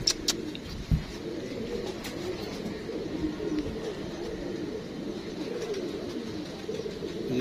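Male Sheesham breed pigeons coo in a low, continuous rolling murmur, close and steady throughout, with a few faint sharper background sounds.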